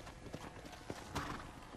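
Horse hooves clip-clop at a ranch in the video game Red Dead Redemption, a few soft, irregular thuds heard faintly under a steady wash of outdoor ambience.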